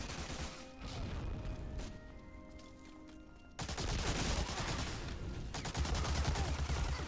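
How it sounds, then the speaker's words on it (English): Gunfire and a grenade blast in the multiplayer World War II shooter Medal of Honor Allied Assault on a Stalingrad map, with dense loud crackling bursts, a sudden heavy boom midway and continued firing after. "Ah, grenade!"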